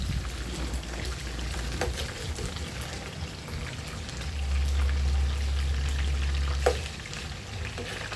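Chicken frying in a home kitchen pan, a steady crackling sizzle that swells louder midway, with occasional stirring clinks and no talk.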